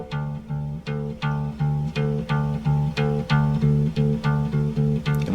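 A bass guitar fingerpicked with three fingers at a fast, steady tempo, repeating the same low note line in a rapid, even pulse, played alone and up close with no talking.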